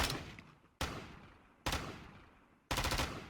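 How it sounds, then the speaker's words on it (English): A fully automatic gun in the video game Pantropy fires in four loud, close bursts of rapid shots, each burst decaying into a short ringing tail before the next one starts, with no voices. "This is a fully auto gun."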